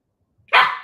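A single short, loud bark from a new puppy breaks out of near silence, close by and fading quickly.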